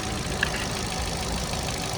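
A small 1.4 MPI car engine idles steadily nearby, a smooth even hum with no revving.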